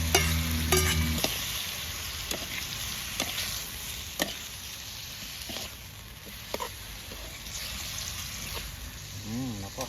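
Pumpkin and egg stir-fried in a pan in a Shan-style home kitchen, with a soft continuous sizzle broken by sharp scrapes and clacks of the spatula, and brief clattering at the start.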